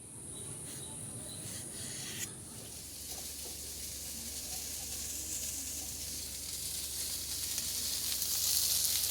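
Soybean chunks fry lightly in a pan with a continuous, gradually rising sizzle and a brief clatter near the start, heard alone without talk.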